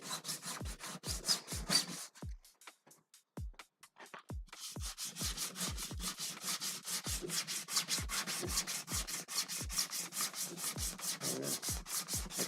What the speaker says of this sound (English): You put the sander on.